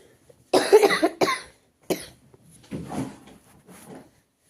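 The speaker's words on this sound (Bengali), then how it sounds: "প্রচণ্ড মাত্রায় কাশি হলো বন্ধুরা, শরীরটা একদমই খারাপ লাগছে" A person who is unwell coughs hard indoors: a loud burst of rapid coughs, a second shorter fit, a single sharp cough, then a few weaker hacking coughs trailing off.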